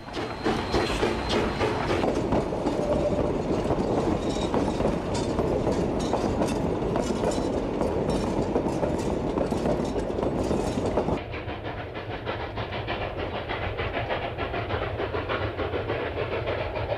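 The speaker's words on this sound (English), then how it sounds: "Number 488 is in the lead as the train departs Chama at milepost 344." Narrow gauge steam locomotive No. 488 departs Chama on the Cumbres and Toltec Scenic Railroad, with continuous loud chuffing, hiss and the rhythmic clatter of rolling cars, which dulls slightly partway through.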